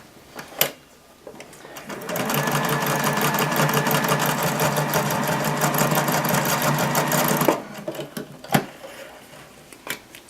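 Sewing machine running steadily for about five seconds as it stitches fabric dinosaur pieces together, a continuous close whirring stitch framed by a few handling clicks before and after.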